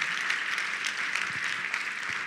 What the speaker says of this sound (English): Please give them a round of applause for these wonderful